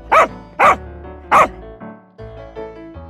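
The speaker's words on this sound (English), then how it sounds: "Dog. The dog barks." A dog barks three times in quick, loud bursts close by, followed by quieter tonal sounds.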